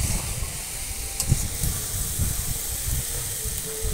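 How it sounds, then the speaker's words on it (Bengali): Taro stolons fry in a pan with red and green chillies, giving a low, steady sizzle and hiss close by. Soft stirring thuds come in a loose rhythm, with a few brief clinks. "এটাকে ভালো করে ভাজবো।"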